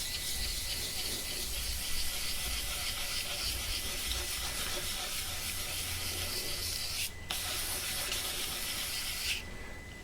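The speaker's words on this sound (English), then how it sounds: "this edge hadn't been sanded yet up to this point" Hand sanding runs along the edge of a custom-built ES-335 style guitar body, making a steady, close, continuous rubbing scrape with only a brief pause near the end.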